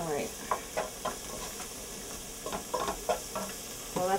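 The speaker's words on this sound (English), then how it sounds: "I'm going to give this a quick stir because you don't want clumpy pasta" Pasta being stirred in a pot for carbonara, with intermittent scraping strokes against the pot over a soft sizzle and hiss of steam, close up and moderately quiet, no one speaking.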